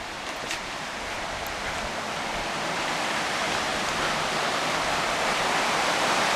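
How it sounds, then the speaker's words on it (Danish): Water mill at the Kupfermühle copper mill museum on the Krusau river, its water rushing as a steady, broad hiss that fills the clip without pause, fairly loud and constant, with no voices over it. "Og nu kan I høre møllen i baggrunden. Det er nemlig vandmøllen."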